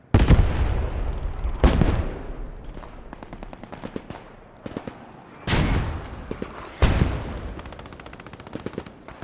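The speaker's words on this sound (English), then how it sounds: "Mortars taking out the northern forest here." Mortar and artillery fire in a competitive online war game match: repeated heavy booming blasts with rapid machine-gun-like bursts between them, loud and close, with no talking.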